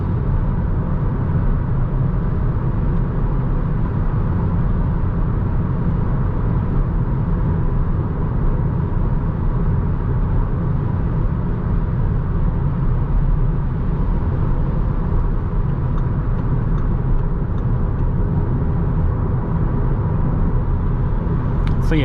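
Steady low engine drone and road rumble from a 2020 Audi A3 Sportback 35 TFSI S Line, 150 hp, cruising at 2,500 RPM, a smooth continuous hum heard from inside the cabin.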